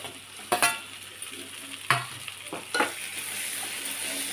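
Tomatoes sizzle steadily in a hot pan as a spoon stirs and scrapes them, with a few distinct scraping strokes over a constant soft frying hiss, close by.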